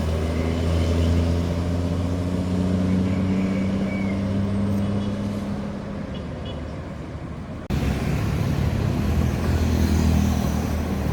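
A heavy bus engine rumbles steadily nearby, swelling as the large intercity bus passes on a winding road at Kelok Sikabu, with a brief cut and continuing road noise; no speech.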